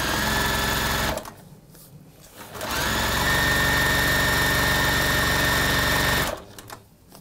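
A sewing machine runs loud and close in two long steady bursts, its even mechanical whir broken by a short pause and trailing off at the end.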